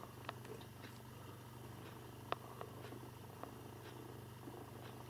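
Mother cat purring steadily while licking her kitten, a close, soft, continuous low rumble with faint wet licking ticks scattered over it.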